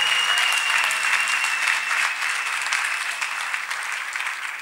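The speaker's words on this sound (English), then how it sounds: "Can we clap for Master Jesus once again?" A church congregation applauds in praise, a full, continuous wash of clapping from many people that stays strong for several seconds before easing slightly.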